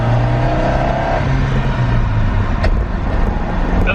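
Drift truck engine revving loudly while shifting into second gear without a clutch, a close, sustained growl with a brief dip as the gear changes.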